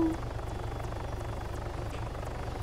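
A helicopter comes in to land in Arma 3, its low rotor chop beating steadily and loud throughout, with engine whine over the top and no clear talk.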